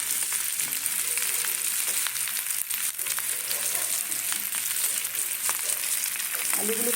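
New potatoes fry in hot oil, giving a dense, continuous sizzle that stays loud and close for the whole stretch, with faint stirring scrapes mixed in and no talking.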